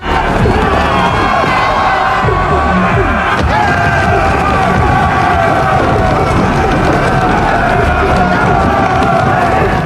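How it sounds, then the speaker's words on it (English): A crowd of Viking warriors rushing in across a bridge, loud massed shouting and battle cries over a dense roar of running feet, close and continuous with no lulls. "Without much thought, the crowd rushed in like a swarm."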